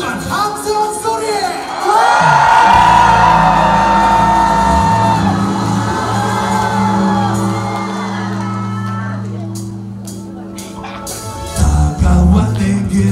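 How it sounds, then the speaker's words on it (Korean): Live crowd at a samba-themed concert erupts in loud, sustained cheering and shouting, with whoops and screams holding for several seconds, then fading briefly before surging again near the end. "5초간 함성 소리!"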